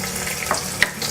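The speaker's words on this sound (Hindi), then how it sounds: "अदरक लहसुन को हम भून लेंगे" Ginger and garlic frying with cumin in a pan: a steady soft sizzle with faint stirring scrapes, close and moderately quiet, no voices.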